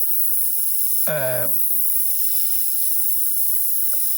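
A steady, airy hiss of an airbrush spraying candy-colour paint over a monochrome base runs throughout, with a brief voiced sound partway through and a small click near the end.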